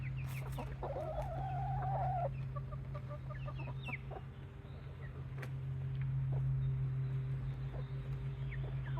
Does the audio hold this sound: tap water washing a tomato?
no